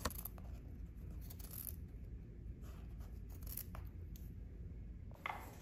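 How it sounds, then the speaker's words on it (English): Sharp snips of scissors cutting around embroidered fabric, close and quiet, in irregular bursts with brief pauses between cuts. "Begin by cutting around your design, leaving about an inch to an inch and a half of fabric."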